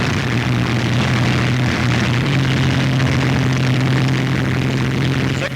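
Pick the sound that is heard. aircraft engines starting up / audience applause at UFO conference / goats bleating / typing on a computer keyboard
aircraft engines starting up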